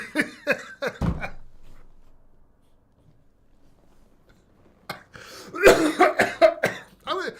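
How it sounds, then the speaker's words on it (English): A person talks, breaks into a sharp, loud cough, pauses, then coughs again heavily amid more talking. "I'm gonna cough."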